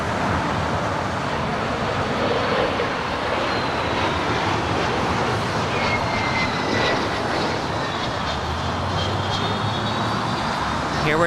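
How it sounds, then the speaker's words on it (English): Air Canada Boeing 737 MAX 8 jet taxiing toward the gates at Los Angeles International Airport, a steady, fairly loud broadband engine roar with some wind, continuous across the whole stretch. "Here we're tracking an arrival from Vancouver, heading to the gates. That's Air Canada 552. 737 MAX 8."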